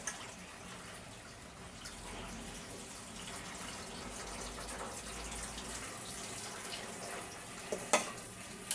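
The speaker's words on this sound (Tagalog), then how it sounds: "tinanggal na natin ang tubig kasi po malambot na yung noodles natin" Soaking water drains from softened bihon rice noodles, a soft continuous watery hiss and trickle running steadily at low volume, with a small clatter near the end.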